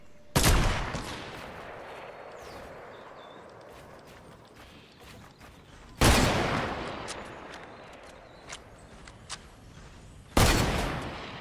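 Gunfire in Fortnite: three loud sharp bursts of shots, close by, spaced several seconds apart, with quieter game noise and a few faint clicks between them.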